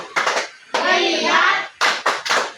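A group claps a quick rhythmic pattern for a classroom focus routine, a short burst of claps, then a stretch of chanted group voices, then three sharp clap bursts, close and loud.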